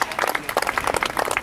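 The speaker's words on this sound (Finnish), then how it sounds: "Hei, viimeiselle aplodit! Aplodit viimeiselle!" Applause and cheering for the last finisher at a Finnish championship beer mile race, with scattered claps and shouts from a small crowd close by for the whole moment.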